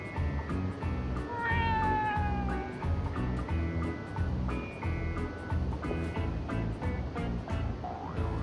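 Cat meowing in the video game Yakuza: Like a Dragon, a few drawn-out meows over a steady game soundscape with a low pulsing background and faint voices.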